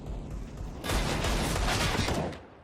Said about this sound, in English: Desperate wall bangs at A main, but Apex pushing up does find Stewie